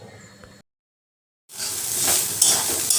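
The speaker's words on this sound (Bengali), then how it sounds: "এখানে উচ্ছে ভাজা হচ্ছে" Bitter gourd frying in a pan produces a steady close hiss and sizzle that rises after a short silence and continues with faint stirring.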